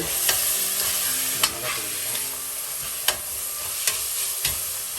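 Tomatoes sautéing in oil in a pan for restaurant-style mutton chops, a steady broadband sizzle with a few sharp spoon scrapes and taps at irregular intervals, close and fairly loud, no voices.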